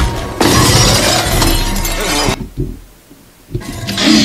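Glass shatters loudly as a velociraptor crashes through a pane in the film The Lost World: Jurassic Park, with a long crashing burst, a brief near-silent lull, then a second burst of breaking debris.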